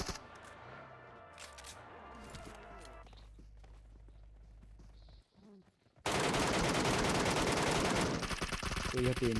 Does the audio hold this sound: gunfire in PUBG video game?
yes